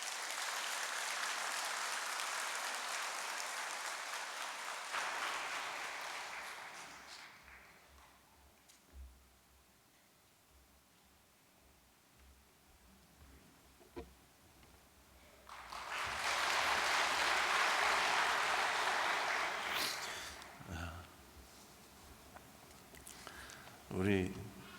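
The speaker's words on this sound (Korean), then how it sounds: "박수로서 모셔주시기 바랍니다" Warm applause from a church congregation, a steady wash of clapping at the start that fades, a quiet stretch with someone speaking, then a second loud burst of clapping that tapers off.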